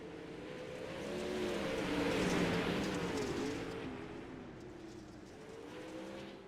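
Dirt track race cars running laps at Kern in a Dirt Outlaws event roar past, engines swelling to a loud peak mid-way, then fading before another car builds in, with no talk.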